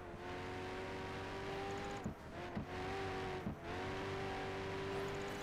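A car engine in the Project Gotham Racing 4 racing game drones steadily at a high, sustained pitch, dipping briefly during a couple of quick gear shifts before settling back to a steady roar.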